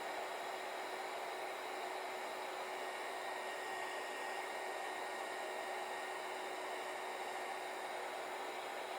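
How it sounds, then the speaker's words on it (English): A small 300-watt heat gun blows steadily, shrinking heat shrink tubing over a soldered wire joint, giving a constant, even hiss-like whoosh with a faint whine throughout and no voices. "Get a little heat shrink going on at the other end. And any old heat gun will work."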